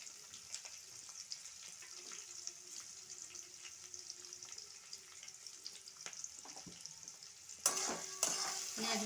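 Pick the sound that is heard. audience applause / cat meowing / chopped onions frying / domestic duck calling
chopped onions frying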